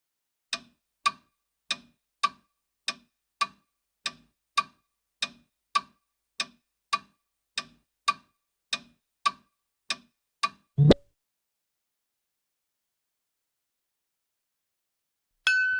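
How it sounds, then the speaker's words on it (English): A clock ticks in a crisp, even rhythm of about two ticks per second, close and clear, then stops with a sharp thud, followed by silence and a brief tone at the very end. "Ticking clock."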